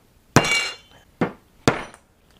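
Hammer tapping a toothpick into a cracked glass Bodum Brazil French press being repaired with epoxy: three sharp close glassy clinks, the first loudest, each ringing briefly before fading.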